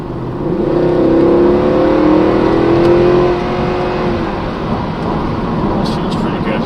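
A 2009 Mercedes C63 AMG accelerates hard in sport mode, its engine heard from inside the cabin as a loud, rising roar that builds for several seconds, then settles into a steadier lower drone.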